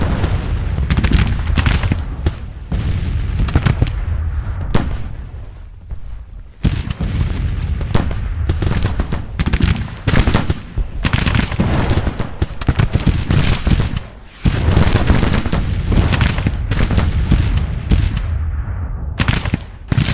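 Richmond carbine gunfire crackles through a Grand Tactician: Civil War battle, dense volleys and scattered shots rolling almost nonstop with heavy booms, loud and sustained with only brief lulls.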